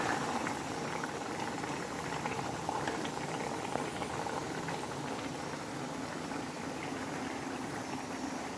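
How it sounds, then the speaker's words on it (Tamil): Fish kulambu gravy thickens as it boils in a pot, giving a continuous close bubbling and sputtering that stays steady and moderately loud throughout. "நல்லா ஒரு 20 மினிட்ஸ் கொதிக்க விட்டிங்கன்னா நல்லா கெட்டியான ஆணம் ரெடி ஆகிடும்"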